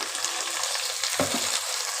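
Chopped cabbage tossed into hot oil with fried onions in a pan, a steady broadband sizzle with a brief stirring clatter partway through, close and alone without talk.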